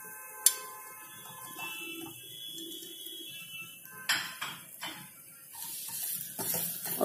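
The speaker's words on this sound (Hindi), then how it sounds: "थोड़ा सा चला के ये मिर्च भी डाल देते हैं इसमें" Spoon clinking against a metal pot while spices are stirred and green chillies are added for an instant green chilli pickle, with light scraping, a sharp clink and scattered rattles.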